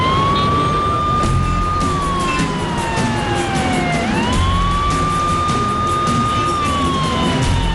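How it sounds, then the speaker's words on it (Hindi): An ambulance siren wails steadily as it sweeps up and down, loud and continuous over the rumble of a congested Delhi traffic jam. "सायरन बजता रहता है"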